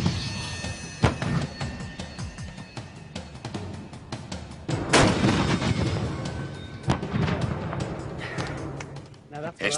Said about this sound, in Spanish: Vamos a presenciar el lanzamiento de una granada propulsada.